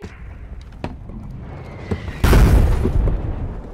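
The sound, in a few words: RPG rocket hits exploding on tanks in a video game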